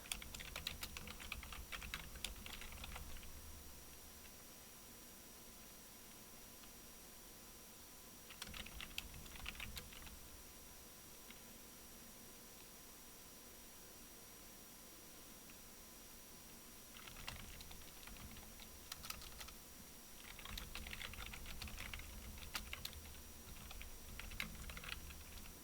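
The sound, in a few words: typing on computer keyboard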